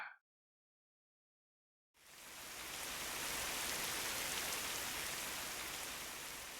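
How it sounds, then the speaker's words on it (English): Rain in the Fate/Grand Order video game, a steady wide hiss of falling rain that begins abruptly after a short silence and continues evenly, alone with no talking. "can hear the rain."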